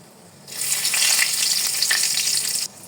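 Bay leaves, white and black cardamom, cinnamon and torn dried red chillies fry in hot oil for a dried jujube pickle, a bright, steady sizzle that starts abruptly and holds for about two seconds before cutting off.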